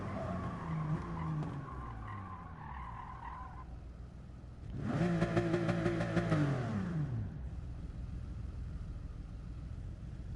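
Race car in a racing game at the Nürburgring, held at full throttle and slowly gaining speed: a droning engine note swells and climbs in pitch, with tire skid and rumble over a steady mechanical hum.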